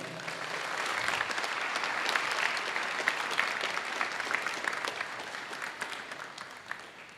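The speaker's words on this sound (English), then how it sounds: "a huge round of applause for you guys for making it to IIT Madras." A hall full of people at a university freshers' and alumni meetup applaud the incoming students, a sustained, even wash of many hands clapping that swells and then slowly tapers over several seconds.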